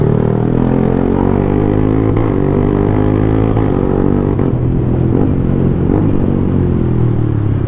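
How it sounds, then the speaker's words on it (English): A Yamaha MT-15 motorcycle engine held at steady revs for the whole stretch, loud and close, with a few brief pitch shifts and faint pops and crackles but no talking. "There's also a lot of cracks and pops in this bike, which I like."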